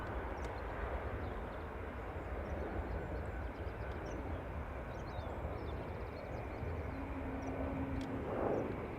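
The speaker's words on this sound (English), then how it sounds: "So Ryanair from Stansted next to land." Ryanair airliner arriving from Stansted and landing at Dublin Airport, heard as a steady, distant broadband jet roar that holds evenly throughout with no voices.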